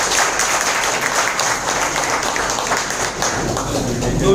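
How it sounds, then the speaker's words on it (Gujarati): An audience at a stage event in a hotel hall in Ahmedabad applauds in a dense, steady wash of clapping that lasts throughout, with voices mixed in. "જોરદાર તાળીઓ આપના માટે"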